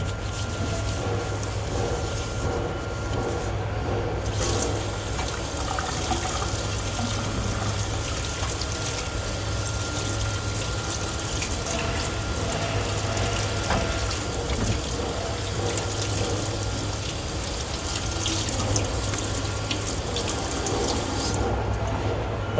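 Tap water running steadily into a sink while gloves are washed under it, a continuous close splashing stream with faint rubbing and low background hum, no voice.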